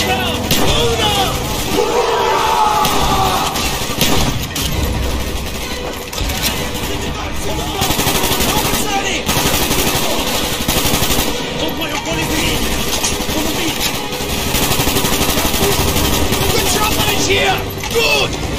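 Sustained automatic gunfire rattles through the Vorkuta prison uprising in Call of Duty: Black Ops, dense and loud bursts running almost without pause, with shouted voices talking over the fighting.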